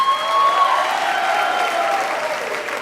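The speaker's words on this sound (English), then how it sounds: "let's give Coach Blade a round of applause" An audience applauds steadily at a school awards show, dense clapping filling the room throughout, with a few faint whistles at the start.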